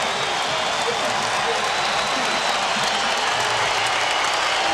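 A basketball arena crowd roars and applauds after a slam dunk in an NBA game, a loud, dense, sustained wall of cheering with a commentator's voice running over it.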